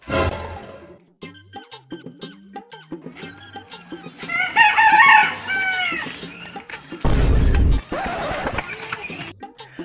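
A rooster crows loudly and close by, its long call rising and falling over clucking fowl, with bursts of other sounds and brief voices around it.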